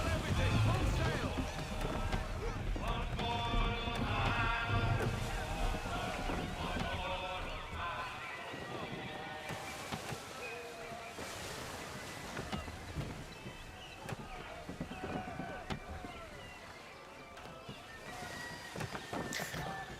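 A sailing ship ploughs through the sea in Assassin's Creed 3, with rushing water, wind and creaking wood under shouted crew orders and someone talking over the game sound.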